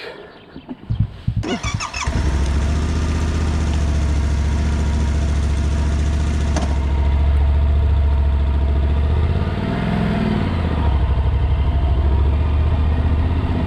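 A motorcycle engine coughs and catches after a couple of seconds, then settles into a loud, steady idle with a brief rev partway through.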